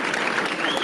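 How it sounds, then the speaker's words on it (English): A comedy show audience applauds, a loud, dense burst of many hands clapping together close up, with a whistle rising through it. "let's have a round of applause"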